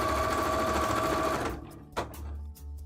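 A sewing machine top stitching cosplay fabric, a loud steady motor whir that runs for about a second and a half, then slows and stops, with a brief restart near the end.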